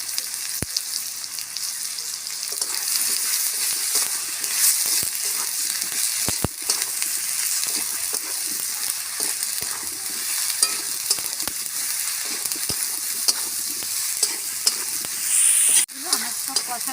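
Spiced taro curry with Kashmiri chilli frying in a pan, a continuous close sizzle broken by repeated scraping and stirring strokes, with no talking.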